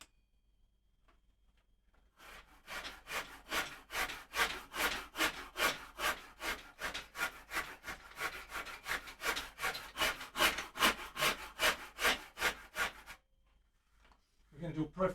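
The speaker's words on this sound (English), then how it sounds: "More rasp." Rhythmic rasping of a rasp on a wooden guitar neck, about thirty steady back-and-forth strokes close by, then a brief pause and a couple more strokes at the end.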